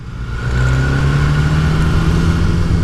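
A 2016 BMW S1000R naked sports motorcycle fitted with an aftermarket silencer, its engine droning loud and close with a steady raised tone, rising at the start and then held evenly, no voices over it.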